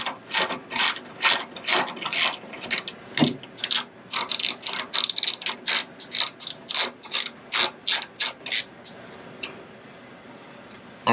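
A cheap ratchet clicks steadily while turning a bolt on a truck mudflap, with close, sharp, rhythmic ratcheting bursts that slow and fade near the end.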